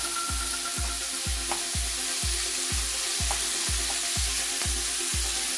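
Mixed vegetables for sabzi bhaji, including flat beans and yardlong beans, fry in a pan with a steady sizzle. A spatula scrapes through them in a regular rhythm about twice a second, with no voices.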